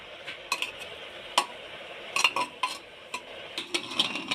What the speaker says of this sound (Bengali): এবার ওর মধ্যে পরিমাণ মতো হলুদ গুঁড়ো দিয়ে একটু নেড়ে নেব